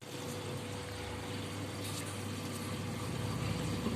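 A washing machine fills with water, with detergent and fabric softener added separately beforehand; a steady, even rush of inflowing water and a low pump hum run unbroken throughout at a moderate level.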